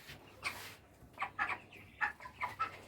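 A 25-day-old broiler chicken clucks while being weighed, giving short, soft clucks in quick bursts, faint and fairly close, with no talking.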